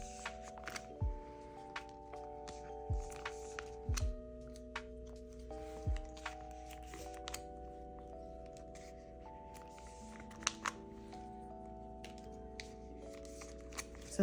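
A stack of trading cards handled and shuffled by hand, with soft repeated slides and taps against a background of steady music tones; no speech.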